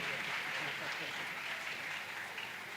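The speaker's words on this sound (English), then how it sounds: "Let's clap for him again" Conference audience clapping for a speaker, a steady wash of applause filling the whole moment with faint voices mixed in.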